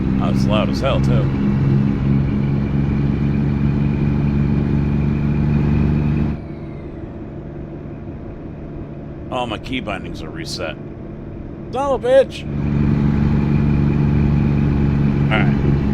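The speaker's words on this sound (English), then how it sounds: "I'm gonna turn the truck sounds down" Truck engine idling in a driving video game, a constant low hum that goes quiet midway while someone speaks, then returns at full level.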